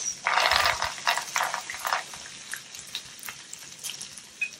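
Groundnuts frying in a pan with red chilies, a crackling sizzle with bursts of rattling stir strokes that start loud and settle into a softer, steady frying hiss.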